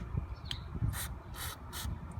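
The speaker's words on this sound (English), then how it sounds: "you're gonna take some of this brake cleaner, and you're gonna just spray the rotor down right here" Brake cleaner is sprayed from an aerosol can onto the brake rotor of a BMW 635 CSi, coming as three short, close hissing bursts over a low background rumble.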